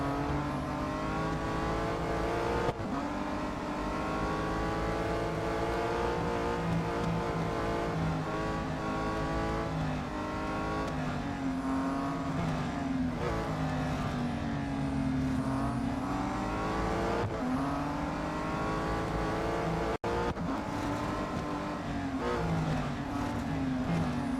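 Race car engines in Real Racing 3 drone and rev continuously through a multi-lap race, pitch rising and falling with gear changes and corners, loud and steady throughout with no talking.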